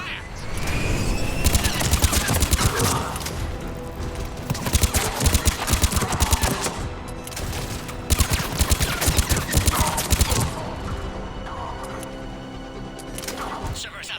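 Rapid bursts of automatic gunfire and fusillades from a Mass Effect 3 firefight at a checkpoint, loud and dense in repeated volleys over a busy game mix with voices speaking.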